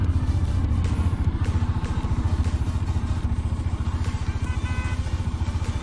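A Bajaj Dominar 400 motorcycle ridden through snow near Kufri, Shimla, its engine a steady, close, loud low-pitched thrum with a fast regular pulse running throughout, with no talk over it.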